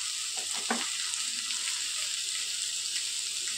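Chopped tomatoes go into a pan of softened onions for a creamy matar paneer, giving a steady, close, loud sizzle that holds throughout with a few wet stirring scrapes and no talking.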